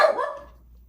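A single close dog bark, sharp and loud at the start, then fading out quickly with nothing else around it.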